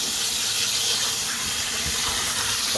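A garden hose runs water through pool filtration sand, rinsing it clean: a steady, loud hiss of gushing water with a faint low churn underneath, alone and unbroken.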